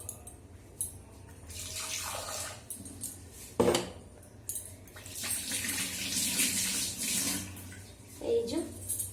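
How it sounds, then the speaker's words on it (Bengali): Water is poured into a pan of frying spice paste, giving a watery splash and hiss that rises and fades over several seconds, with a voice talking and utensils clinking nearby. "এই পেস্টটা আগে দিয়ে দিলাম, একটু সামান্য জল দেবো,"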